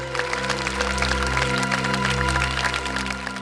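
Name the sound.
audience applause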